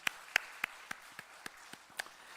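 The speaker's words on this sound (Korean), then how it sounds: "하나님께 감사 올려드리는 영광의 박수 올려드립니다" A church congregation claps in steady unison, about eight evenly spaced claps at a brisk rhythm, a few strokes louder than the rest, heard fairly faint in a quiet hall.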